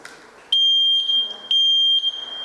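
Two loud, piercing electronic beeps from a smoke alarm, each a sustained high tone about a second long, with a short gap between them.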